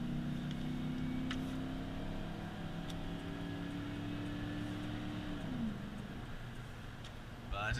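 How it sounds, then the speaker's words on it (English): A car engine at full throttle climbs steadily in pitch with a deep throttle-body intake tone, then drops off as the revs ease, close and continuous, with faint talk in the background. "you can just hear that it's got that nice throttle body sound. And I'm pretty much to the wood right now"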